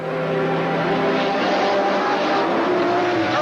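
A Jaguar prototype race car in the 1986 IMSA Camel GTP event at Laguna Seca roars continuously at high revs, loud and close, with a steady engine drone throughout.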